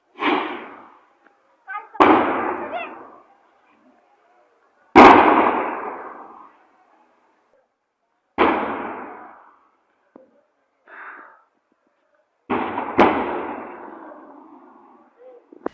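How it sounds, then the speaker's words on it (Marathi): Gas cylinders exploding one after another in a burning cylinder warehouse in Kandli near Achalpur-Paratwada, several loud distant booms each trailing into a rumbling decay, separated by quiet gaps. "गोदामातील एक सिलेंडर फुटत असल्याने त्या स्फोटाचे आवाज"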